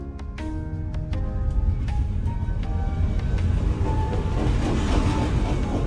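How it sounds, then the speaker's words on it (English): Video game train from Night in the Woods passing by, a low rumbling roll with sharp metallic clanks and tonal whistle-like notes scattered over six seconds, moderately loud and continuous. "Another train."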